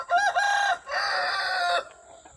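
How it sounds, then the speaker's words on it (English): A rooster crows loudly and close by among backyard chickens, one long drawn-out crow in two parts, followed by a brief quieter trailing call, with no talk. "A little rooster, he keeps jumping in."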